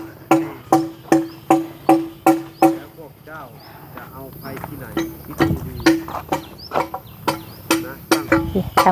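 Chickens near a Thai village home, with a run of sharp, regular percussive knocks, likely chopping while feed is prepared, and voices talking over the background.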